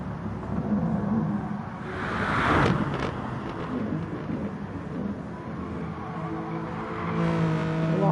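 A Corvette race car engine in a racing video game on the Dragon Trail Seaside track drones loudly and continuously, rising and easing as it revs through the run.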